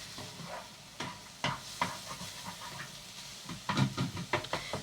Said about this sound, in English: Fry that really well